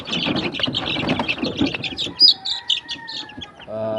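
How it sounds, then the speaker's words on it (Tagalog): Young chicks from a backyard flock, their sire a Bulik and their dam a Boston, peeping busily in a close, dense chorus of high chirps with a few clucks near the end. "Pakita ko lang sa inyo yung aking mga sisiw"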